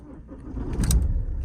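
A 2007 Alfa Romeo GT coupe's 1.9 JTD four-cylinder diesel engine cranks and catches, a low rumble swelling into a steady idle, close and fairly loud.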